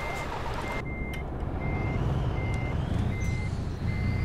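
A truck reversing into a parking spot in Euro Truck Simulator 2: a steady high beep repeats about every half second over a low, continuous diesel engine rumble.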